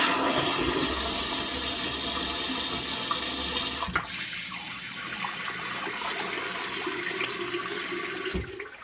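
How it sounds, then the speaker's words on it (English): A toilet fitted with an Ove Tuav bidet flushes in a loud, steady rush of water for about four seconds, then drops to a quieter refill trickle as the tank fills, with no one talking. "I'm going to flush the toilet."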